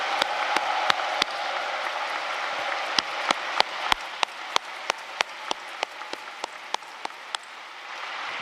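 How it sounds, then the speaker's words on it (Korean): A large congregation at an Easter joint worship service in Yeouido Full Gospel Church breaks into sustained applause, a dense wash of clapping with a few sharp, nearby claps standing out. "뜨거운 박수를 부탁드립니다."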